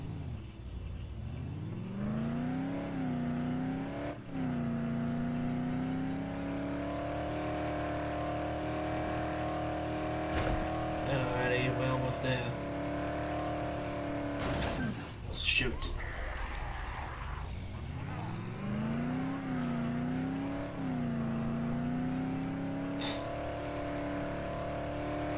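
A car in the zombie game Dead Island revs and accelerates, its engine pitch climbing and dipping through gear changes alongside scattered knocks and bumps, and a voice speaks briefly over it.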